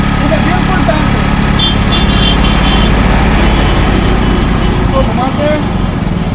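A Hero Honda Splendor motorcycle engine with a faulty magneto runs steadily nearby, a loud continuous putter carrying a rough rattling edge throughout while someone speaks over it.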